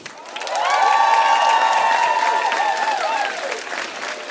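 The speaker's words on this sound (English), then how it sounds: "we want to welcome them to the Nordic Cosplay Championship with a warm applause" A crowd at the Nordic Cosplay Championship 2019 breaks into loud, sustained applause with cheers and whoops, welcoming the observer country Estonia, then slowly fades.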